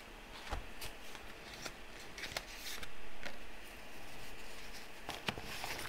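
Hands rummaging through a bag of patterned paper scraps, giving close, crisp rustles and sharp crinkling snaps in quick irregular bursts, with no talking.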